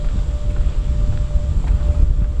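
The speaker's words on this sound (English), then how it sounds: "It's fairly windy up here." Wind blowing across the New River Hiawassee Bridge: steady, rumbling gusts buffet the microphone throughout, with no talking.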